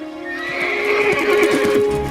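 A horse neighs loudly, a long wavering whinny that rises and trails off, with faint hoof clopping underneath.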